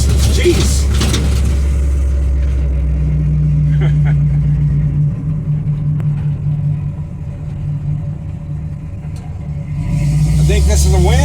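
A 1955 truck's old engine rumbles loud and steady while driving, with a rise in revs near the start and again at the end as it pulls through the gears; someone talks over it.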